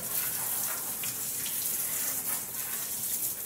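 Lukewarm tap water runs steadily over a dog during a bath, a constant close splashing rush with no talking.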